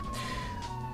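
Police car siren in the multiplayer San Andreas game, a brief steady electronic wail sounding close and continuous for about a second, with no talking.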